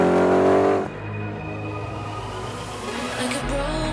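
Tuned 400 hp Audi S4 with its 4.2-liter V8, a strong engine note that rises as the car revs, then settles into a lower, steady drone that climbs again near the end.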